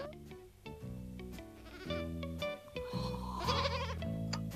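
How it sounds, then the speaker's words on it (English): Several goats bleat repeatedly at close range, wavering cries overlapping one another with short gaps between calls. "useful animals, goats, Jim"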